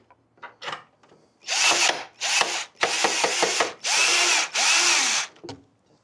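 A power drill drives screws into a motorcycle accessory in several bursts. Short taps at first give way to longer, loud whirring runs with brief pauses between them.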